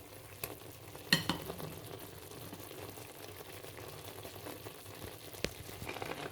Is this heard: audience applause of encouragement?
no